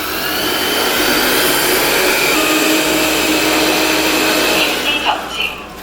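MGTEC Twin Boss S10 Ultra robot vacuum running a full clean, a loud steady whirring suction drone that holds evenly throughout, dipping slightly with a couple of small knocks at the end.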